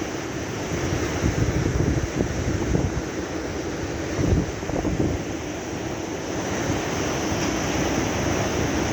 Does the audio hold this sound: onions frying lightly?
no